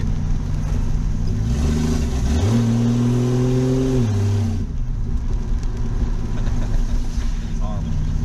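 A 1967 Mustang classic car engine revving while driving, a loud rough drone that climbs in pitch, holds, then drops back to a steady low rumble as the car cruises.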